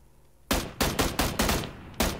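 Close, loud bursts of gunfire in the Fortnite video game, about six sharp shots in quick irregular succession following a quiet moment.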